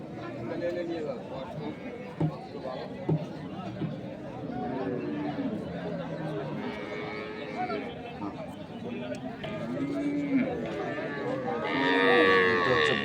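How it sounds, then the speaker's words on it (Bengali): Cows and calves, dairy breeds such as Sahiwal, Sindhi and local cattle, at a rural cattle market, with repeated moos near and far amid constant crowd chatter and people talking close by. "এটা হচ্ছে গাভী।"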